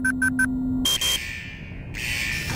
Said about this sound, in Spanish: Parece que activó una alarma de sensor de la bodega.